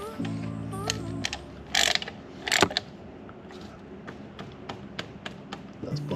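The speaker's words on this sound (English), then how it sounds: "we're gonna put the drain plug back in." A drain plug being threaded back into a Honda S2000 transmission during a fluid change, with close metallic clicks, ratcheting taps and small clanks in an irregular rhythm, plus faint squeaks, and no talk.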